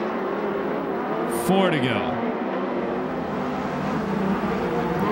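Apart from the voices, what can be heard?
USAC midget race cars racing at Perris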